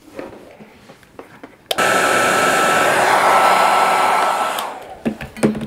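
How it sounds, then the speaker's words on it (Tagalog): A heat gun switches on abruptly and blows with a loud, steady whooshing roar for about three seconds before winding down, amid handling clatter, as it softens 3M adhesive on a motorcycle helmet chin mount. "i-hit gun ko lang ulit para siguro lumambot"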